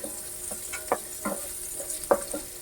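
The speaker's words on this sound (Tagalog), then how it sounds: "Maglalagay ako dyan ng butter. And then, maggisa na tayo ng sibuyas." Onions sautéing in butter in a pan, giving a soft background sizzle broken by several spatula stirs and scrapes that come and go irregularly, with no voices.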